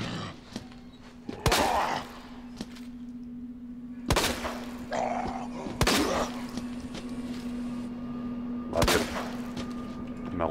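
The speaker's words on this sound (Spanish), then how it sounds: "Cuatro tiros a la cabeza." Gunshots in the Resident Evil 2 Remake video game crack out as four sharp, separate blasts spread over several seconds, over a low steady game hum with quieter effects between shots.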